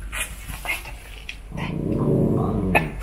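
A dog carrying a ball lets out low growls under scattered background noise, the growling swelling louder and more continuous in the second half.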